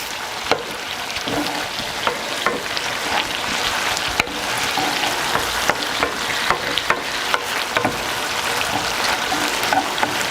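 Risotto rice is stirred without pause in a pan, giving a continuous sizzling hiss broken by frequent small scraping clicks from the spoon.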